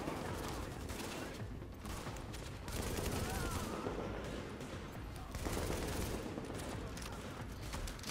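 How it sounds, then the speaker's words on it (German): Gunfire in the video game The Division, dense bursts of automatic fire and scattered shots that rise and fall in waves throughout, loud and close. "Was, aber wer schießt denn auf mich?"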